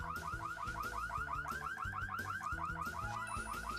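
A loud electronic alarm system in The Sims wails continuously in a rapid repeating warble, steady and close, with no voices over it.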